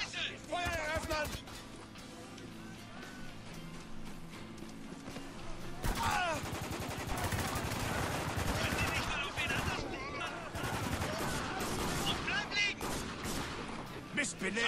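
Shots ring out in a Spec Ops: The Line firefight, coming in rapid, loud bursts through most of the stretch while voices shout over the shooting.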